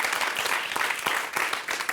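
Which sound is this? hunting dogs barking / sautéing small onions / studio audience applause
studio audience applause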